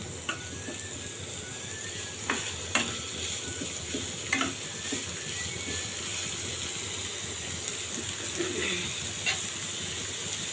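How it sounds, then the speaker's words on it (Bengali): Green chillies and onions fry in oil in the pan used for pointed gourd, giving a continuous close hiss and sizzle with occasional light clicks of stirring. "পটল ভাজি তেলের ভিতরে এই কাঁচামরিচ এবং পেঁয়াজগুলো আমি ব্রাউন কালার করে ভেজে নিব"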